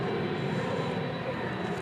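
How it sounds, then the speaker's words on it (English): A NetJets Embraer Phenom 300 business jet takes off at an airport, producing a steady, loud broadband engine roar that holds evenly throughout without pauses. "There you see a NetJets Embraer Phenom 300 off to"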